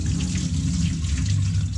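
Soaking water poured out of a container of acorns, a steady splashing flow running the whole time, close and fairly loud with no voices.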